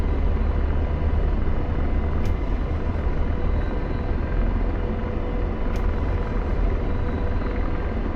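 A helicopter in the DCS flight simulator flies on with a steady, loud rotor and engine drone that fills the whole stretch evenly, with no voices.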